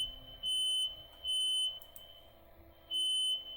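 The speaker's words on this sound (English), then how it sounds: "Fire alarm." Household smoke alarm set off by cooking in the kitchen, sounding three loud piercing electronic beeps of about half a second each at an uneven pace, with no talk.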